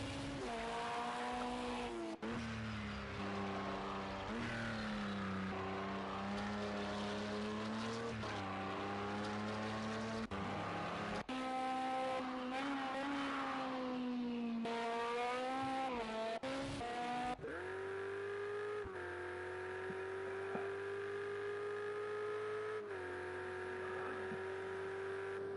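Race car engines in Project Cars 2 during a British Sportscar Championship race, one car pulling out of the pits, heard as loud, continuous revving with rising and falling pitch and gear shifts, and faint tire squeal throughout.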